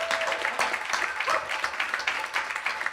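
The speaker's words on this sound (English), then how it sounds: "Let us give him a round of applause." An audience at an annual Hindu Shrimad Bhagwat Katha gathering gives warm, continuous applause, many hands clapping in a dense, even patter that fills the room.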